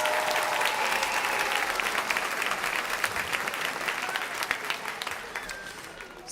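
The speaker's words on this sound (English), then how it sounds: "Give them one more round of applause." Sustained applause from a large audience at a 2023 high school graduation ceremony at Rhodes College and Career Academy in Cleveland, Ohio, a dense steady wash of clapping that holds for several seconds and tapers slightly at the end.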